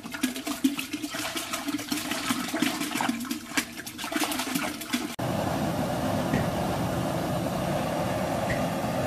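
Reverse osmosis water poured into a homebrewing vessel for an all-grain brew, a turbulent splashing rush that shifts partway through into a steadier, smoother flowing pour, with no talking.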